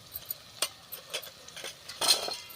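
Spices with red chilli powder, black masala and turmeric stirred into hot oil in a pan for a spicy sesame-potato curry; quiet scattered clinks and scrapes of a spoon against the pan with faint sizzle, no talk.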